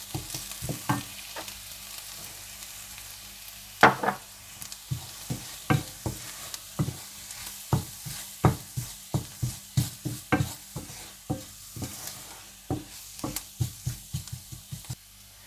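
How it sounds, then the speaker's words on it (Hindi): Maida flour being roasted and stirred in a pan, with a steady run of close scraping and stirring strokes over a low background hiss, with no voices. "थोड़ा सा भुनने के बाद आप इसमें मैदा डालकर भून लीजिएगा।"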